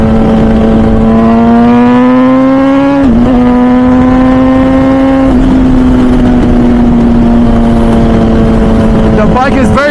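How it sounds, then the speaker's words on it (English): A 215 hp MV Agusta Brutale 1000 RR naked superbike on the Nürburgring, its engine roaring loud and close at high revs with steady pulls through the gears and brief dips at each shift. "the bike just pulls so hard in pretty much every gear throughout the power range"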